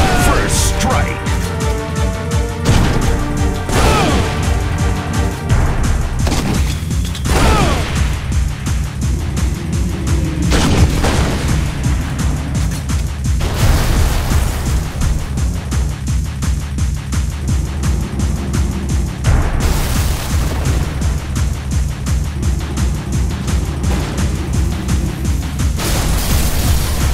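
A grenade launcher in Halo Reach fires repeatedly, each shot followed by a heavy booming explosion in a loud, dense stream of blasts, with a voice talking over parts of it.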